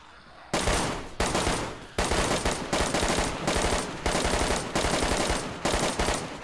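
An automatic rifle with a 60-round magazine fires in a zombie video game: long rapid bursts of close, loud gunfire separated by brief pauses, with no talking over it.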